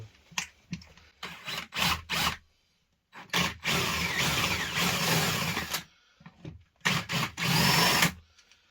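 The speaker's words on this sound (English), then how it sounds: "So if you want to drill and you don't have a jig to give you angles, start the drill off like that" A power drill runs into wood in several bursts, short whirring stops and starts followed by longer sustained drilling, close and fairly loud.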